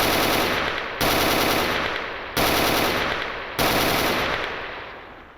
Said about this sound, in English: keep an eye on the FN-FAL, because the fire rate is crazy and it's got almost no recoil